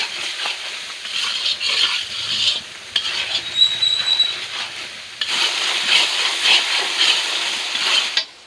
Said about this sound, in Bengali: লবণ দেব, ভালো করে মশলাটা কষিয়ে নেব।